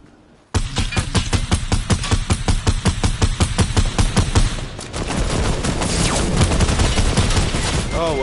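Loud, rapid gunfire in a multiplayer video game match, a fast rhythmic burst of shots continuing for several seconds before blending into a dense, sustained roar of battle noise.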